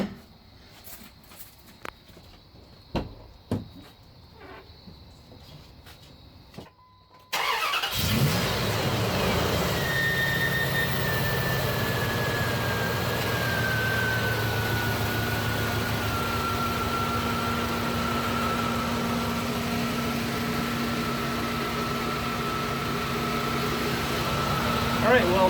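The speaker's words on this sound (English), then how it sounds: "I'm going to start the engine" Truck engine starts after a jump from a Dodge Charger's trunk battery, with clicks and quiet handling first, then a sudden catch into a loud steady idle with a faint descending whine as revs settle.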